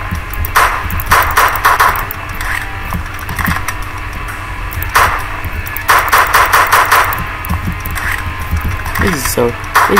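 Rapid automatic gunfire bursts in the multiplayer video game Slendytubbies 3, loud repeated volleys with engine-like drone beneath and a voice talking over it.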